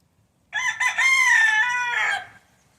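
A rooster crows once, loud and close, in a single drawn-out call lasting about two seconds against near silence.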